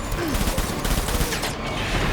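Rapid gunfire in the video game Death Stranding rattles on as a dense, loud burst of shots that fills the whole moment without pause.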